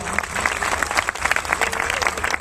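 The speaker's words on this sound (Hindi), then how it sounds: "मैं चाहता हूं एक जोरदार तालियां गुरुदेव के लिए हो जाए।" An audience at a motivational event claps loudly and continuously, a dense patter of many hands with crowd noise mixed in.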